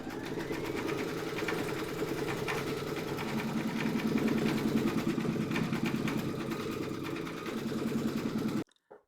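An embroidery machine stitches with black thread in a rapid, steady mechanical chatter of needle strokes over a motor hum, close and unbroken for several seconds before stopping abruptly.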